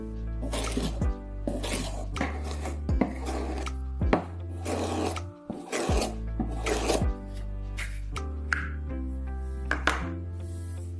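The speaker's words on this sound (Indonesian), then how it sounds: "Sekarang pegang tabung dari atas saat mengasah di atas batu." A blade is rubbed on a sharpening stone, with a steel tube held over it to shield the hand. It gives about a dozen even, close rasping strokes in a steady rhythm.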